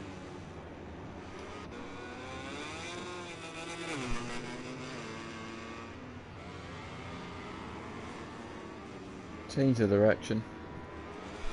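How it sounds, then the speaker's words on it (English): A racing motorcycle engine in the video game MotoGP 21 whines and climbs through rising revs under steady commentary, with a brief louder burst of engine noise near the end. "And he accelerates towards the line."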